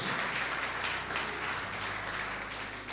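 Church congregation at a prayer service applauds in praise, a dense, sustained wash of clapping heard from across a large room, with a low hum underneath.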